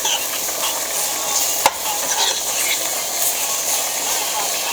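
Onions sizzle and fry with flour in a pan for turkey neck gravy, a steady broadband hiss with scraping stir strokes and one sharp clack of the utensil against the pan partway through.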